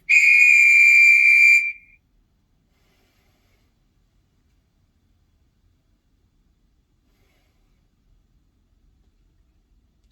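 LED timer FSE008 giving its start signal: one loud, piercing electronic beep lasting about a second and a half, followed by near silence.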